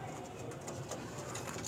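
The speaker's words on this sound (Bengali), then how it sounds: "এগুলো সব আমার কালশিরা ফুলশিরা পায়রা" Andhra pigeons, a high-flier breed kept in a home loft, coo softly and continuously over a steady low murmur of flock sounds.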